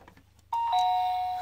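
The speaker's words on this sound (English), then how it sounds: "a doorbell." A doorbell rings once after a quiet moment, two clear sustained chime tones sounding close and loud, then slowly fading, with no talking.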